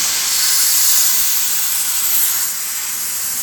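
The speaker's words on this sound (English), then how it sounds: "hit it with a compressed air and let it blow out in there" Compressed air blasts through a VW Beetle engine part, a loud, steady, close hiss that holds evenly for a few seconds before easing slightly at the end.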